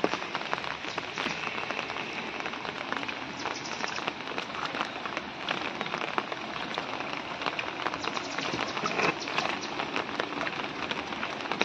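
Steady rain falls on surfaces in a residential neighbourhood lane, a dense continuous patter of drops close by with no voices, even in level throughout.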